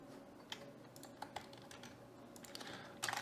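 Scattered keystrokes on a computer keyboard, quiet and close, some single taps and then a quick cluster of clicks at the end.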